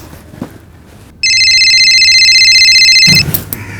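A mobile phone rings loud and close in a quiet room, one sustained electronic tone pattern lasting about two seconds before cutting off into a rustle.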